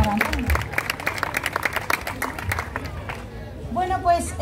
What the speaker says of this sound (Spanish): Aplauso para Antonio.